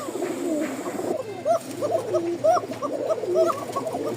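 A kokka pigeon gives long, repeated coo calls, a close rhythmic series of rolling hoots at roughly one-second intervals over quiet background noise.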